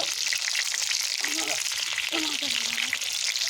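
Hot oil in a pan sizzles with chili added, a steady loud frying hiss throughout while a person talks over it.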